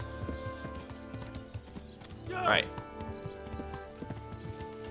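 Horse hooves clip-clopping in the medieval game Kingdom Come: Deliverance, a steady rhythm of hoofbeats with a brief whinny midway, quiet under a man's speech.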